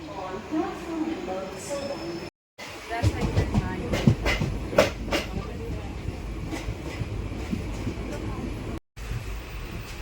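Steady rumbling and clattering of a moving Mumbai to Kudal Ganpati special train, heard from inside a carriage, with a couple of brief dropouts.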